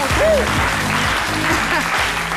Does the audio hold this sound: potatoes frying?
no